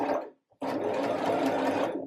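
A sewing machine runs steadily, stitching fabric for a reversible bodice and backing up over the seam to lock the stitch; a short burst, a brief pause, then continuous close, loud whirring with no talk.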